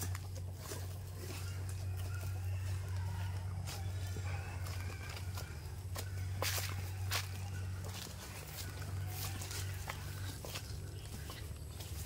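On a Philippine province farm path, fowl and other farm animals cluck and call in scattered bursts. A steady low hum and footsteps run underneath, with a little distant talk.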